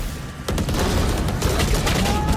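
Dense rapid gunfire from a Valorant esports match, a loud continuous burst of shots after a brief quieter lead-in, layered with game effects and crowd or caster noise.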